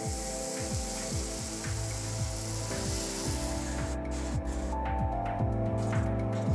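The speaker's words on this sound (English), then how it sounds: "It's sizzling." Couscous and water sizzle in a hot pot with a steady hiss, continuous and fairly loud, with faint scraping and bubbling textures throughout; no voices.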